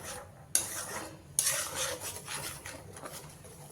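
A spoon stirs yogurt and cashew paste into spices in a pan, with two sharp metallic scrapes against the pan followed by softer, steady stirring and scraping nearby.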